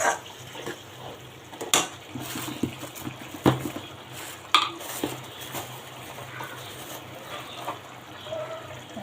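Chickpeas go into a pan of spiced gravy for a Bangladeshi chhola boot bhuna and get stirred, with a few sharp spoon-on-pan clinks and soft wet scraping over a steady low kitchen background.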